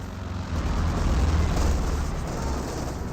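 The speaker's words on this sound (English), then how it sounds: "Another constant aircraft flying about." A continuous low roar of an aircraft passing overhead in a Company of Heroes 2 battle, loud and sustained with a broad rumbling wash and no clear breaks.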